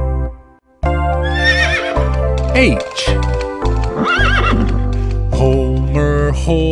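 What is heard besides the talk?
horse neighing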